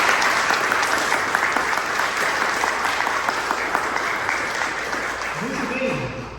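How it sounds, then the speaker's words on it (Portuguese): A church congregation at a Father's Day service claps steadily in a reverberant hall, broad applause holding throughout before a voice begins speaking near the end. "A igreja pode dar uma salva de palmas para o papai aqui?"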